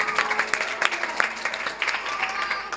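A crowd at an Independence Day (15 August) program claps in a brisk, dense patter of hands, sustained and moderately loud for the whole stretch without talk.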